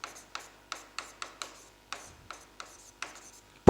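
Pen strokes scratch across paper during a Class 10 math lesson, about a dozen short, evenly spaced rasps, close and fairly quiet, ending with a sudden knock.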